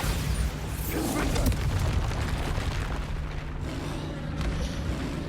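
A Bombarda spell explosion in Hogwarts Legacy during a troll fight: a muffled booming blast with a rumbling, hissing tail over a dense, steady layer of game combat noise and a low hum.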